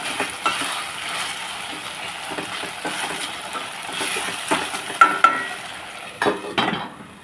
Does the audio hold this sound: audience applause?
no